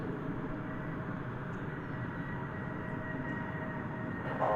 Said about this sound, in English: plane coming in.